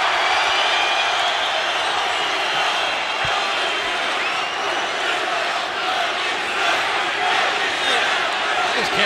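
A wrestling arena crowd in Toronto reacting to a wrestler on Monday Night RAW, a dense, sustained roar of cheering and shouting that fills the whole stretch, with a commentator's voice underneath.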